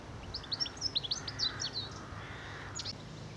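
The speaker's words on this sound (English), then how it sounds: "Goldfinch there somewhere" Bright, twittering goldfinch song in quick bursts of chirps and trills, moderately distant over quiet outdoor background in late November.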